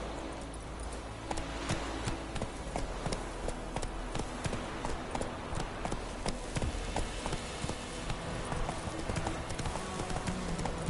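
The horse Roach galloping in The Witcher video game, a rapid, steady run of close hoofbeats in a continuous rhythm throughout.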